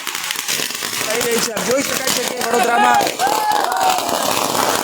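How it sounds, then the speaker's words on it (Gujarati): Firecrackers burst in rapid, crackling volleys at an Aam Aadmi Party election victory celebration in Vadodara, mixed with a cheering crowd while a reporter talks over the noise. "ફટાકડા ફોડી જશ્ન મનાવવામાં આવી રહ્યો છે વડોદરા ખાતે"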